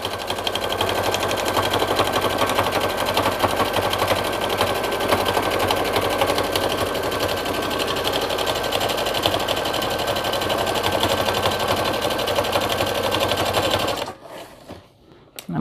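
A sewing machine runs steadily for about fourteen seconds, stitching close to the edge of a machine-embroidered hooded towel with an enclosed hood, then stops abruptly into near silence.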